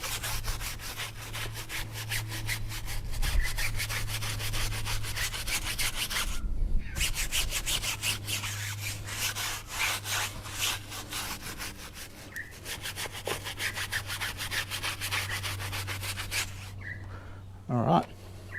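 A brush scrubs a tyre coated in Bowden's Own Down & Dirty cleaner, making steady, continuous rubbing strokes up close, with a brief pause partway through and a short squeak near the end.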